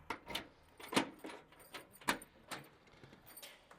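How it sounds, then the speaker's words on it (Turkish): Keys jingle and clack at the front door of a villa as it is unlocked and opened, giving a series of sharp metallic clicks and rattles spaced irregularly, close and moderately loud. "Hemen kapımızı açalım."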